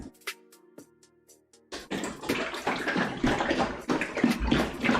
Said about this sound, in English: I'm gonna add some cream.